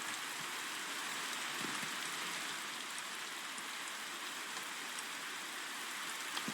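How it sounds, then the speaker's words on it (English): Steady rain falling in the video game Minecraft, a continuous even hiss of drops with no voices. "Minecraft rain does nothing for me."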